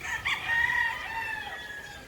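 A gamecock rooster on a game farm in Agusan del Sur crows loudly in one long, strained call, with breezy outdoor background noise.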